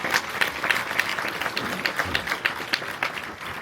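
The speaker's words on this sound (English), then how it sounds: "can we just give a round of applause to everybody?" A crowd applauds with steady, dense clapping at moderate volume, heard from a short distance.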